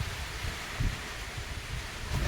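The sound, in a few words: strong wind from Typhoon Uwan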